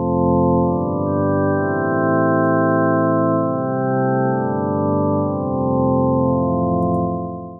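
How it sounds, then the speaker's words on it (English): Smooth, sustained sine wave synth pad chords with soft attacks, organ-like, slowly shifting from one chord to the next, loud and steady with no other sounds. "these are the chords that I've used for this synth pad"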